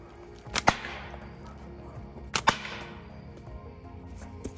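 Two sharp cracks of a lead ball fired from a slingshot striking a wooden board, each a loud snap followed by a brief decaying rattle, spaced about two seconds apart, with a faint third tap near the end.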